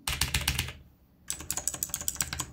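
Mechanical keyboard with blue switches being typed on up close, a burst of crisp clicky keystrokes, a brief pause, then another steady run of rapid clicks.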